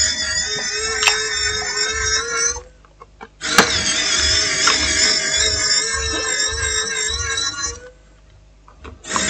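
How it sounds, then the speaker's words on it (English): Screws being taken out of a Connex Swiftbook Pro L1430 laptop for motherboard repair with a small electric screwdriver, which gives a loud, close, high whine in two long runs separated by short pauses. "Let's take out the screws."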